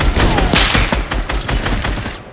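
Rapid gunfire in a Fortnite duo match: loud, close shots fired in quick succession with several sharp bursts, and no talking.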